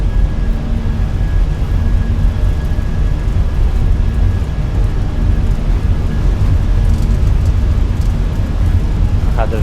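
Fenix A320 jet engines spooling to takeoff thrust in the MSFS2020 flight simulator on a Dublin departure: a loud, steady, broadband roar that holds for the whole stretch without letting up.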